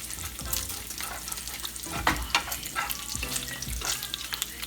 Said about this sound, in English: you just let the grease cook the bacon